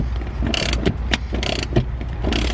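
Seat bolts being loosened and manual seats pulled from a Chevy 1500 pickup cab, giving repeated close ratcheting clicks and metallic clanks in short bursts, with bright scraping between.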